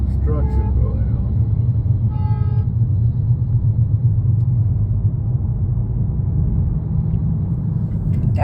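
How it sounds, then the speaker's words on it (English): A big truck's horn blares in city traffic in Charlotte, North Carolina, with two short tonal honks early on over the constant rumble of road noise inside a moving car, where people are talking. "That's a rare type of car horn. I think it's one of those big trucks that Javier used to drive."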